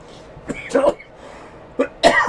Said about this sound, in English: I'm hearing coughing.